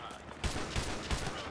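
Gunfire in the Modern Warfare 2 Remastered campaign: a dense, continuous burst of rapid shots with a few heavier thumps standing out, loud and close throughout.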